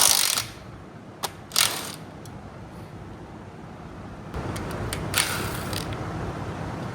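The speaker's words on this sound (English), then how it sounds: "Let me go ahead and get that pickup tube off the way. Undo that and get that oil pump out of there." Taking the oil pump and pickup tube off a 5.3 LS engine makes a few sharp metallic clinks and ratcheting tool clicks over a faint background hiss, with quiet gaps between the knocks.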